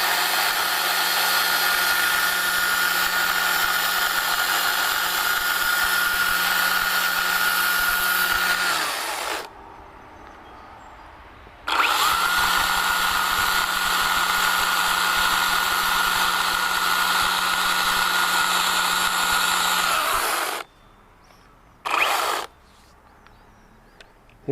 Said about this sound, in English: I can dial it in with the the die grinder.